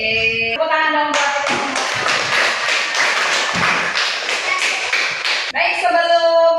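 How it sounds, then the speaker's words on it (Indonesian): Children in a third-grade classroom clap their hands together in a burst of brisk, overlapping claps and taps lasting several seconds. An adult voice speaks just before and right after it. "Tepuk tangan dong buat"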